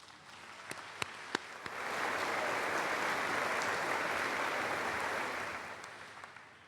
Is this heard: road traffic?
no